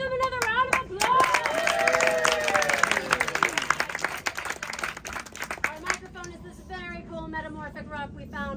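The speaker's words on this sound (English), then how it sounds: "let's give them another round of applause" An audience claps and applauds at a small geology presentation, a dense burst of hand claps with cheering and crowd chatter that thins out toward the end.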